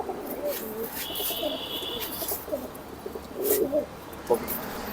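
Soft, repeated cooing of pigeons close by on a pigeon farm, with some rustling and faint chirps over a low background hum.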